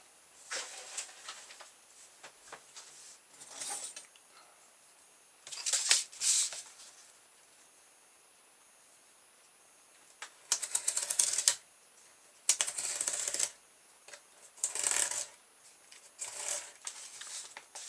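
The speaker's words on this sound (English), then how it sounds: "I'll cut that on my cutting board so I don't damage my nice worktop." A knife cuts through material on a cutting board in a small workshop build, making crisp rapid scraping and tapping bursts that come in several separate bouts with quiet gaps between them, close and fairly loud with no talk.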